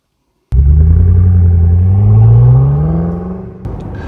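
A 2013 BMW M5 starts moving from silence with a sudden loud, deep engine rumble that climbs steadily in pitch as it accelerates, eases briefly near the end, then carries on running, close and with no talking.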